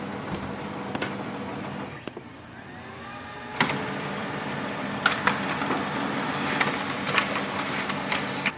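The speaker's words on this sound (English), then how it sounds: "Now we can just click on the printer test page for the confirmation." A Xerox printer running a test page: a steady mechanical whir with repeated clicks and short feed thumps at irregular intervals, close and fairly loud, with no talking.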